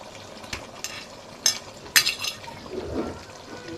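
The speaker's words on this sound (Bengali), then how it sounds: "সবজিগুলোকে অনবরত কতক্ষণ নাড়তে থাকবো যাতে করে মশলা মাংস ভালোভাবে সবজির গায়ে লেগে যায়" A spoon scrapes and stirs vegetables into cooked spiced beef in a pan, with a few sharp clinks and soft sizzling between strokes.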